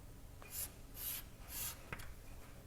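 Pen strokes on paper while a chemistry product structure is drawn, three soft scratchy sweeps and a short tap, close but faint.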